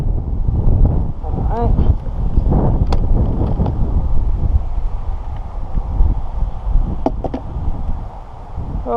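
Strong wind buffets the microphone outdoors during a 2015 Subaru Crosstrek windshield replacement, a steady loud rumble and rustle throughout with someone speaking over it.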